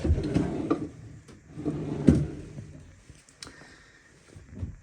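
An empty wooden drawer in a small hotel room slides open and shut, giving a few soft knocks and scrapes in a row at close range, then a quieter stretch with faint clicks.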